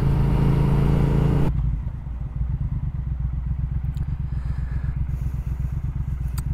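Triumph Speed Twin motorcycle with a flashed ECU, engine running close and loud with a brief rev, then settling into a rumbling, pulsing ride sound with wind noise.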